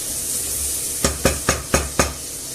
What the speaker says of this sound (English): any bits of meat in the bottom of the pan, just scrape it and give it a nice taste